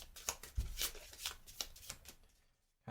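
Deck of cards being shuffled during a Marvel Champions card game, a quick run of crisp riffling flutters and taps lasting about two seconds, close and fairly quiet, fading to silence before a final light tap.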